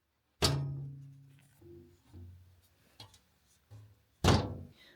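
An indoor door shuts with a sharp thunk, followed by softer knocks and shuffling, then a second firm slam near the end.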